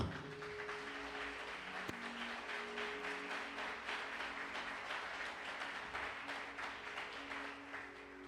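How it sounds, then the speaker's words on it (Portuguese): A church congregation at a Sunday family service applauds in a steady, dense wash of clapping that runs throughout, with faint sustained tones held underneath. "Pode aplaudir o Senhor."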